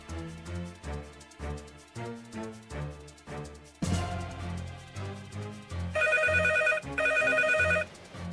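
A telephone ringtone sounds during a live radio call-in show, repeating in short melodic bursts over a steady music bed, with two louder ringing stretches toward the end.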